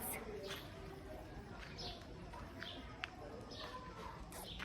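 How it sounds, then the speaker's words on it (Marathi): Birds chirp in trees beside coconut and mango trees, with several short, bright calls repeating across the clip over a steady outdoor background hiss, and a voice is heard in between. "चिव चिव चिव चिव आवाज."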